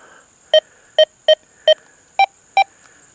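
A Deus 2 metal detector emits six short, clear electronic tones in quick succession as the coil is wiggled over a faint steady hum, with a slightly higher pitch on the last two.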